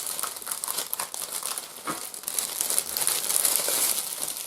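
A plastic roasting bag is handled while preparing meat, giving continuous close crinkling and rustling with brief louder crackles, alone without speech.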